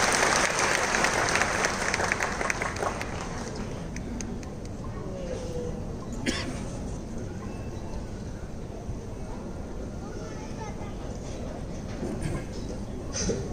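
An audience at an honour ceremony applauds a motivational speaker. The clapping is loud and dense at first, then settles into a steadier, softer applause that carries on to the end.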